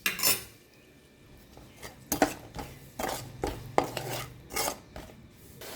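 A spoon stirs biryani masala and yogurt in a pot for veg dum biryani, with repeated scraping and clinking strokes against the metal at an uneven rhythm, close and fairly quiet.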